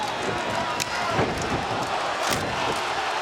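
A wrestling arena crowd in Dallas roars and chants, a loud, swelling mass of voices with sharp bursts rising out of it, during an event with ladder and suplex action.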